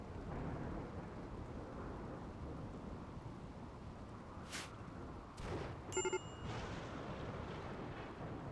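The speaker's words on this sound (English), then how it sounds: "a lot of thunderstorms" A thunderstorm in Rimworld gives steady rain-like rushing noise with a sharp crack and a brief rumbling burst of thunder near the end, with no voices.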